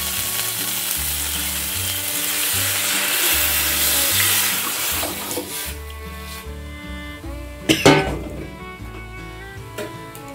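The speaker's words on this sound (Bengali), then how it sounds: "মশলা কষানো কমপ্লিট, ডালটা এখন দিয়ে দিই।" Lentils (dal) tipped into a pan of cooked spice paste: a loud, broad sizzling hiss that settles and fades, then a short clatter near the end, with music playing in the background.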